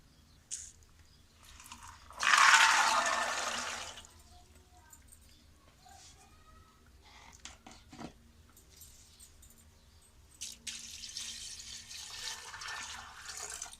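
Water pours steadily into a pot of chickpeas for a couple of seconds, a loud splashing rush that then stops, followed by quieter kitchen clatter and some running water near the end.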